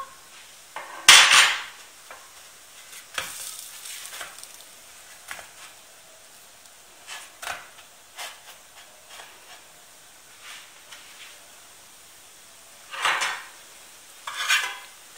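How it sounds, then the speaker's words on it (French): Food being turned over on all sides in a pan near the end of cooking, with scattered clinks and scrapes of utensils against the pan over a faint background sizzle, several louder clatters standing out. "Là, je les retourne sur tous les côtés."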